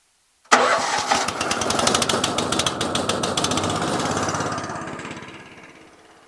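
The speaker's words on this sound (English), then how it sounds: "It's a petrol engine powered pump, and it's electric start." A petrol-engine spray pump with electric start cranks briefly, catches and settles into a steady, loud, rapid putter close by, then slowly fades away.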